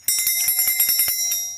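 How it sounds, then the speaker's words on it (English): Small silver-tone bell, a thrift-store find, rung rapidly by hand in a close, bright jingling burst of repeated strikes that then rings out and fades. "So we got the silver bell."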